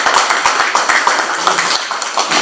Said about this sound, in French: on peut quand même s'applaudir tous